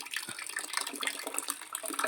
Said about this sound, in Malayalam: ടാങ്ക് മെല്ലെ നിറയുന്നുണ്ട് ഇതാ വെള്ളം വരുന്നുണ്ട്